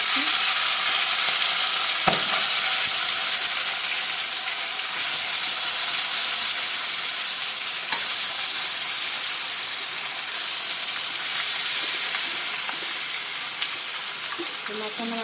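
Marinated chicken pieces frying in a hot pan for desi chicken curry, a loud continuous sizzle and hiss with occasional stirring clatter throughout.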